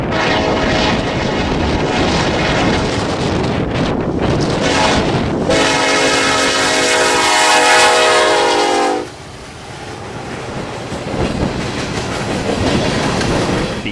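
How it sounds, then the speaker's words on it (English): A BNSF empty coal train led by SD70ACE 8760 roars past close by, its horn sounding one long chord-like blast before cutting off, leaving a lower rolling rumble of cars. "SD70 ACE 8760 was leading this empty coal train back to the mines in Wyoming."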